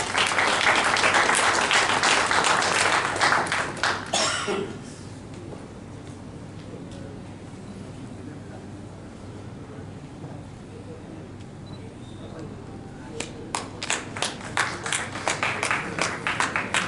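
An audience at an auto parts manufacturing industry event in Pakistan applauds award participants, with dense clapping for about four seconds that fades into quiet room tone, then scattered claps returning near the end.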